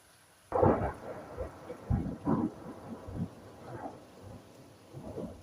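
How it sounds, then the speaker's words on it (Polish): A thunderstorm with rolling, rumbling thunder claps arriving in several heavy bursts over a steady wash of rain, fairly loud and with no talking. "No chyba sobie pójdzie burza."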